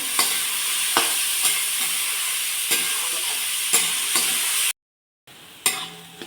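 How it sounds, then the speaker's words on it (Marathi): Onion fries with cumin in a pan, a loud continuous sizzle broken by regular spoon scrapes, briefly cut to silence before the frying hiss returns with another stir. "जिरं तडतडले की लगेच यामध्ये आपल्याला कांदा घालून घ्यायचा आहे कांदा चांगला लाल होत आपल्याला भाजायचा आहे"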